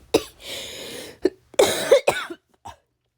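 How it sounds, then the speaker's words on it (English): A woman coughs in a fit of several harsh, close bursts spread over about three seconds, separated by short gasps and pauses, with no talking. "My coughing fit continues."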